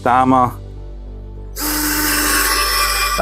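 A Parkside PASS 4 A1 cordless screwdriver driving a 3x25 mm screw into wood without a pilot hole, a steady close motor whir that starts after a brief spoken word and runs on evenly to the end.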